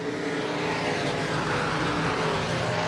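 Sportmod, compact and stock cars roar through a heat race at Buena Vista Raceway, a loud, continuous engine drone blending several cars with no break and no voices.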